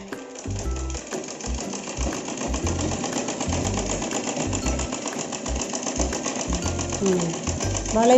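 A sewing machine stitches the curve of a pant in fast, steady rapid-fire bursts, close and loud, pausing briefly between runs, with a voice talking over it.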